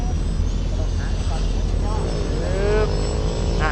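Propeller engine of a trainer airplane on a landing approach to a runway, a steady close drone with the throttle eased back, while a voice talks over it throughout.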